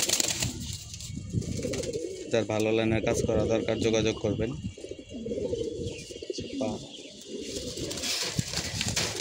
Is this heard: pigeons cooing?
yes